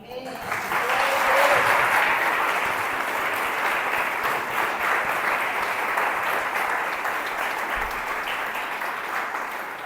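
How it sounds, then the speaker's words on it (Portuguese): A church congregation claps in loud, dense, sustained applause during a Mother's Day service, steady throughout and gently tapering toward the end. "Palmas ao Senhor"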